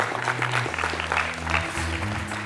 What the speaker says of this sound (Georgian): ხურვალი აპლოდისმენტები მერფის კანონს